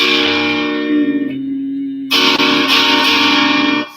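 A sustained, heavily distorted electric guitar chord rings out, briefly thins to a lower droning tone, then a fresh distorted chord is struck and held loudly.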